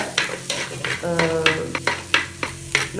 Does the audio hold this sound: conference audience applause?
no